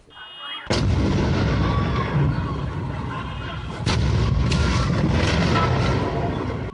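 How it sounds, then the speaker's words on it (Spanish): Loud, sustained blasting roar from a gas explosion in the streets of Kaohsiung, southern Taiwan, beginning with a sudden heavy boom and surging again midway, dense and rumbling throughout without voices. "una impresionante explosión de gas en Taiwán dejó varias personas muertas"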